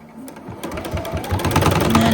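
A sewing machine stitches a quilted bowl cozy at a 2.2 stitch length, with a rapid mechanical whirring rattle that speeds up and grows louder as it runs.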